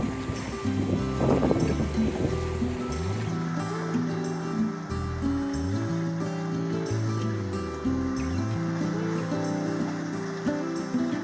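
A sailboat moving under sail at about 4.5 knots, heard as a steady wash of waves and water along the hull with wind buffeting the microphone and low rumbling surges, continuous and close.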